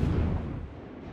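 Deep, rumbling boom of ship's guns from a World of Warships naval battle, a heavy low blast decaying over about a second, loud and close.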